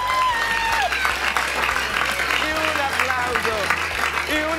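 A children's group claps and cheers for a team at a kids' event: busy, continuous applause with excited young voices calling out over and under it throughout.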